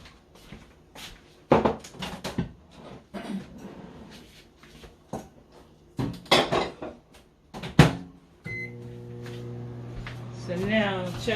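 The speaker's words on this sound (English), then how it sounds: "now I'm going to just pop this back into the microwave" A dish is set into a microwave in a home kitchen with clinks, then the door shuts and the oven starts humming steadily, with talking heard between the sounds.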